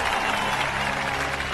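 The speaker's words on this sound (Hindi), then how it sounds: "ताली बजाओ" Crowd clapping in a movie scene, a dense burst of loud, rapid applause from many hands, close and continuous for a short moment.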